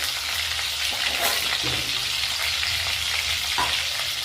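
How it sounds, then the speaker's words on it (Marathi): Chopped chillies fry in hot oil, giving a steady broadband sizzle with a few soft stirring scrapes, close and continuous throughout with no talking. "मस्तपैकी तेल गरम झाले आपल्याला याच्यामध्ये घालायचं कट केलेली मिरची"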